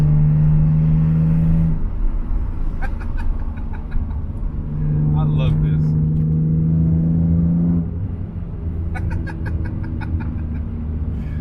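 A supercharged BMW E46 M3 with an Active Autowerke supercharger and catless downpipes idles with a deep drone and a couple of revs, under a brief spoken remark.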